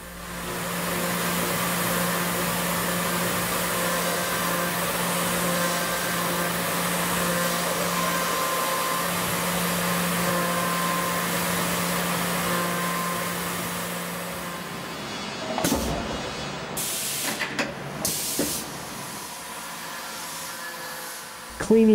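CNC machine milling the inside bores of a gear ring for a Mars Curiosity rover model, giving a steady loud whirring hiss with a low hum for about fifteen seconds before it breaks into uneven bursts and pauses.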